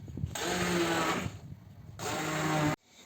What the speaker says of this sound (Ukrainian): після цього перемішуємо блендером